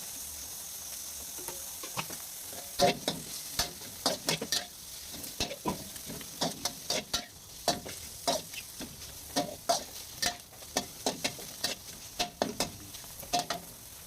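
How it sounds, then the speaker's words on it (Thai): Pork and garlic stir-fried in a pan, a steady close sizzle broken by regular scraping strokes of a spatula roughly every half second to second throughout, with no talk. "ใส่กระเทียม แล้วก็ใส่หมูไป ผัดให้สุกๆหน่อย"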